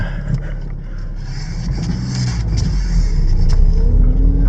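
A car with a turbo timer fitted drives along with a steady low engine rumble and road noise heard from inside the cabin, growing slightly louder toward the end.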